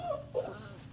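A Basset Hound puppy gives two short, high whimpers close by against a quiet indoor background.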